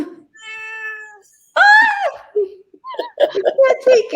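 A domestic cat gives one loud, drawn-out meow close by, with voices chatting and laughing before and after it.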